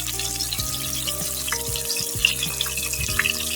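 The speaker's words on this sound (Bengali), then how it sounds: "দেখেন করলাগুলি কিন্তু প্রায় আমার ভাজা হয়ে গেছে। আরেকটু আমি ভেজে নিব" Stuffed bitter gourds fry in hot oil, giving a steady close sizzle with crackling throughout and a low hum running beneath.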